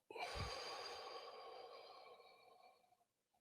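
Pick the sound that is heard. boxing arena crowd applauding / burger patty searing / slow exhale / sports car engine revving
slow exhale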